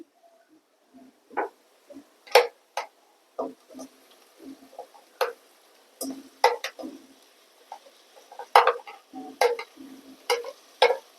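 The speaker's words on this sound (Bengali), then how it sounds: "এবার এর মধ্যে দিয়ে দেবো কাঁকড়াগুলো দিয়ে দিই।" Crabs dropped into a pan of well-cooked spice masala and stirred, giving irregular sharp scraping and clattering strokes with soft sizzling between them, close and fairly loud, with no talking.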